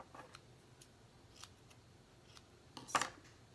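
Scissors snip through Grapefruit Grove ribbon for a birthday card, with a few faint, quiet clicks and then one sharper cut near the end, close in a quiet room.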